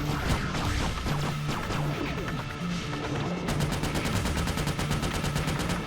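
Friendly gunfire in Ratchet: Deadlocked, dense rapid shots and impacts over game music and effects, turning into a steady fast-rattling burst in the second half.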